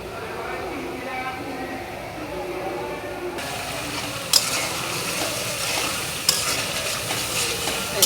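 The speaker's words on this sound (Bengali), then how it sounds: "এই যে মশলাটা সুন্দর করে কষাই নিতেছি।" Spice masala stir-fried in a pan alongside small pieces of meat, a continuous sizzle with scraping stirs that grows brighter and louder partway through, punctuated by a couple of sharp utensil knocks.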